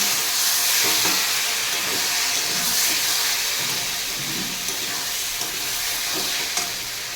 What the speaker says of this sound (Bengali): মশলাটা কষানো হয়ে গেছে, এবার দিয়ে দেবো জল